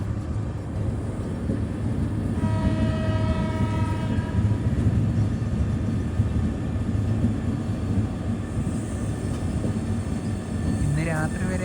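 The Gurudev Express rumbles steadily on the rails with a loud continuous roar, and a sustained horn blast sounds for a couple of seconds early on.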